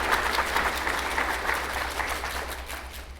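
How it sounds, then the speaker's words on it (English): Audience applause for school principals at a district address, sustained crowd clapping with a dense, even texture that stays steady and fairly distant throughout. "let's give all those principals a big round of applause"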